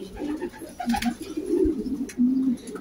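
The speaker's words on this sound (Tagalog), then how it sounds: "Yung feral pigeon." Feral pigeons coo nearby in a few low, rolling phrases, with brief rustling between calls and no talking.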